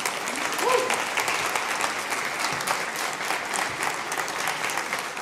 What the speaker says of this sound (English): So give yourself a huge round of applause for being here today.